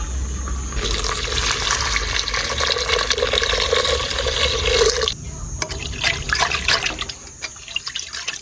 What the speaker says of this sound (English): So we got some rice washing now.